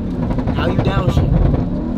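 A Jeep Grand Cherokee Trackhawk engine revs up on a downshift, giving a loud, close, rising burst under people talking throughout.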